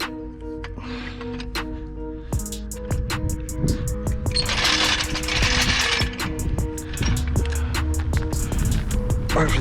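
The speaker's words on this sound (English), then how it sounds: "I need to jack the steering rack up a little bit so I can get on the bolt to release it." A car jack is worked under an Audi TT to raise the steering rack, producing a steady series of sharp metallic ratcheting clicks at an even pace, close and fairly loud over a low mechanical hum.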